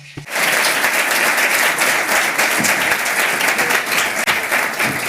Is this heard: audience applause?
yes